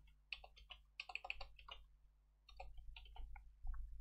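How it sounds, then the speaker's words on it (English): Quick bursts of typing on a computer keyboard, near and fairly quiet: a fast run of key clicks, a short pause, then another run of taps over low background hum. "let's type here new beta version available"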